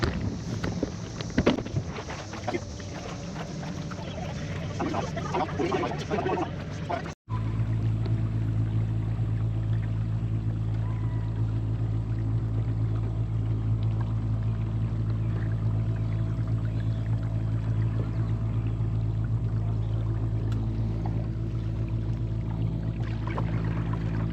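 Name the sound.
trolling motor pushing a Lifetime Manta fishing kayak through water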